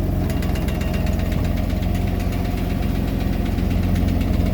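An old truck engine with a dump bed runs loud and steady with the power take-off engaged, a continuous close rumbling drone with a faint knocking pulse.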